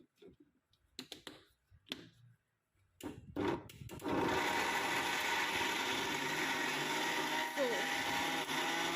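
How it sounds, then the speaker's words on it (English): After a few sparse clicks and a short spoken word, a blender starts up and runs loudly and steadily, whirring thickly through almond butter with cocoa powder and raisins until the end. "I'll add in the cocoa powder and then I would blend again."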